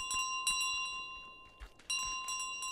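Small bells ring in Untitled Goose Game, a steady bright chiming that drops briefly and then returns, with no one speaking over it.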